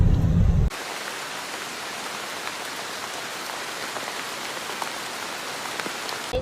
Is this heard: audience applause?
no